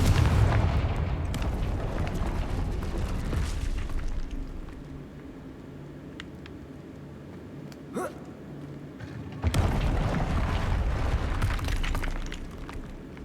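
Confringo explosion spell cast in Hogwarts Legacy, heard as loud, rumbling blasts of game sound that fade into a quieter stretch, a sharp crack, then another heavy burst.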